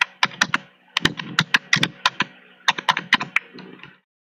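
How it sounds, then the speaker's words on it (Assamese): A password being typed on a computer keyboard during an online login: irregular bursts of sharp, close keystrokes with brief pauses, ending abruptly in silence. "পাসওয়ার্ডটো টাইপ কৰিব"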